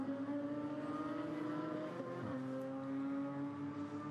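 GT4 race cars at the Nürburgring, climbing through the Advanbogen bend, with a steady engine drone and a pitch drop as gears change partway through, continuous and fairly distant.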